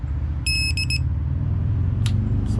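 A quick series of high electronic beeps from a Harbor Freight 3/8-inch digital torque wrench sounds over a low, steady engine-like rumble, followed by a couple of brief clicks.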